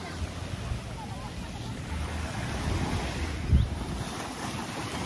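Waves wash onto a rocky beach at a Caribbean resort shore, a soft continuous surf with breeze and a brief louder splash near the end.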